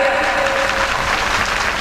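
Clapping during a satsang gathering in Shivnagar: a short, dense patch of group hand claps, steady and fairly loud throughout.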